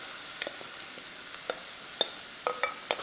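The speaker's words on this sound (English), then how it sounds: "I have some vegetable oil in the pan and it starts to shimmer. I will put all the chopped vegetables into it" Chopped vegetables dropped into shimmering vegetable oil in a pan, a faint sizzle with scattered light clicks and scrapes of a utensil tossing them, a few sharper taps near the end, no voices.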